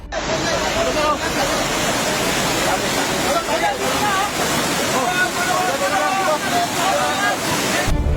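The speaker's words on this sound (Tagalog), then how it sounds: "umuulan na kaya patuloy ang pagtaas pa ng tubig" Loud, continuous rushing water pours through an irrigation cave in rain, a dense roaring wash close to the listener, with muffled voices faintly mixed in under the torrent.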